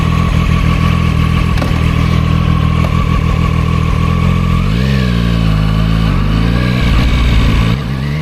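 An unrestricted Zontes 703RR three-cylinder motorcycle engine drones loudly under riding, its pitch rising and falling as the throttle opens and shifts, with steady wind rush and no speech.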